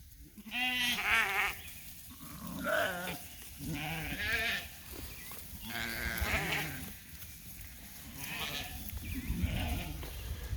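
Repeated sheep bleats, several loud wavering calls in a row, fairly close, during a move of sheep with baby lambs, with a low outdoor rumble underneath.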